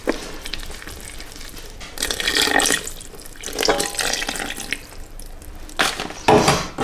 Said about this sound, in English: I'm just going to start and pour that in the centre